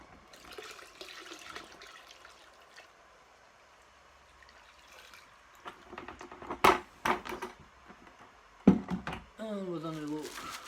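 Five litres of collected liquid tipped into a home-brew batch, a gushing pour and splash near the end after quieter handling noises, with someone talking over parts of it.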